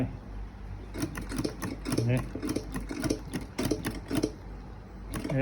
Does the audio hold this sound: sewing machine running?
yes